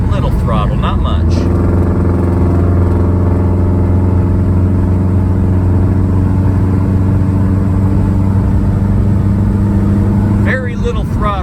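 A high-mileage 2005 Subaru with a replaced turbocharger drones steadily on light throttle, a loud, even engine hum held close for several seconds, with a voice briefly heard at the start and end.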